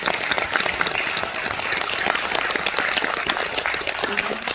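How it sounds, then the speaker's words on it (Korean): Dense, steady applause from an audience after a Korean traditional dance performance fills the space evenly, with many hands clapping close and continuously and no break. "이 대목에서 박수를 주셔야 되는 거예요."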